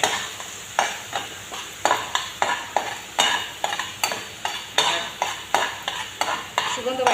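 Bain eel fish frying in spices in a pan, stirred with brisk, rhythmic metal scrapes roughly twice a second over a continuous loud sizzle, close up and without speech.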